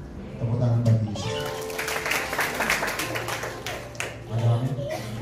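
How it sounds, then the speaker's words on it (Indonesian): A church congregation at a Family Blessing Jakarta service claps for Jesus in a brief burst of applause that rises after a preacher's voice and fades as he speaks again. "Nanti katakan aku, tepuk tangan bagi Yesus."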